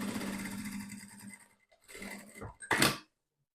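A sewing machine stitches along the edge of fabric for a small pouch, in short whirring bursts separated by pauses, with a brief louder scrape near the end.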